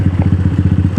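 A Hawk DF250RTS motorcycle engine pulls toward 60 in a steady, rapid pulsing beat, loud and close throughout the short burst.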